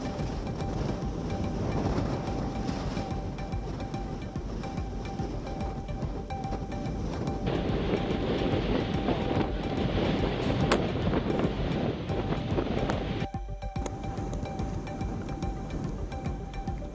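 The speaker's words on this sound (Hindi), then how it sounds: "मांडवी में तेज हवा के बारिश," Strong wind from Cyclone Biparjoy at Mandvi on the Gujarat coast, a constant roaring gust buffeting the microphone with a broad hiss like rain or surf, steady and loud for the whole stretch.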